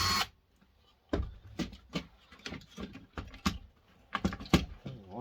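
Electrical tape pulled off a couple of screws on a hi-fi unit, heard as a string of close, sharp crackling rips and taps in uneven bursts, with short quiet gaps between them.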